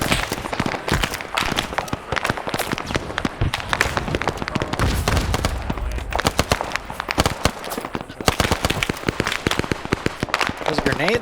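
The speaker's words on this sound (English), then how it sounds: "Those grenades going off or what?" Grenades and gunfire in a military video game: a dense, continuous crackle of sharp bangs and pops, close and loud, with voices talking now and then.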